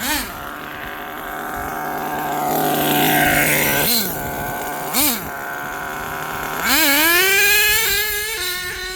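An HPI Savage XL V2 RC monster truck revs hard and spins all four tires. The high engine whine climbs and drops in loud surges with a brief cut between bursts, heard up close.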